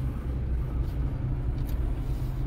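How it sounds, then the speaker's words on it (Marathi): A Maruti Suzuki Eeco running on CNG drives along a bypass road, heard from inside as a steady, low engine and road rumble with no speech. "आता गाडी आपली CNG वरच चालू आहे।"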